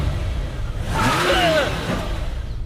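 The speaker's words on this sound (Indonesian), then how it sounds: "mobil Ram melaju dengan sangat kencang dan mengerem mendadak tepat di depan dirinya" Ram's car speeds past with a rising whoosh of engine and tyre noise, then brakes suddenly with a brief squealing whine before the sound settles, all fairly close and with no talk.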